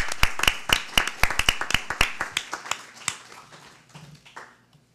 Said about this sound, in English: Give a round of applause to Principal Lindsay Thompson.